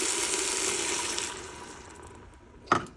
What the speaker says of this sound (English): you're gonna add a cup of water